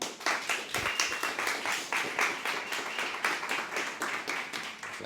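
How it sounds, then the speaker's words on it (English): Audience applause and clapping for a podcast guest being introduced, a dense burst of many hands that rises and stays steady with rhythmic peaks for several seconds, close and lively. "can we give a massive round of applause for my friend, Michia Rohrssen."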